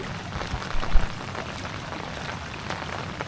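Heavy rain falling beside a brimming village canal after days of downpour, a dense steady hiss of drops with a few louder splashes, heard alone with no talk.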